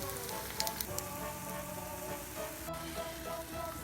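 Stuffed French toast frying in a pan on its second side gives a steady, faint sizzle with soft crackles, heard alone and without talk.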